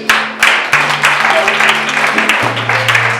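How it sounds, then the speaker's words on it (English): An audience at a school career day applauds, with dense clapping that starts sharply and stays loud and steady for a few seconds at close range. "a round of applause, please"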